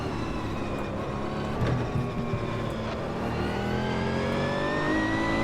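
A GT1 race car in Automobilista 2 drones steadily as it brakes down a hill, the engine tone sliding gradually upward and holding loud and close throughout.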